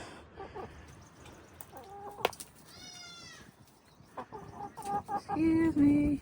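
Backyard homestead chickens cluck and squawk at feeding time, close and lively, with rhythmic clucks building into a louder burst of overlapping calls toward the end.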